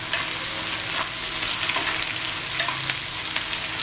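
Chopped onion fries with salt in a pan over low heat, a steady dense sizzle with light scraping stir sounds throughout, close and continuous, with no talking.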